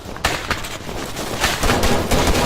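Gunfire in the video game Arma during a defend mission at a construction site, a run of sharp cracks and bursts in fairly quick succession over a busy, loud background, with no talk.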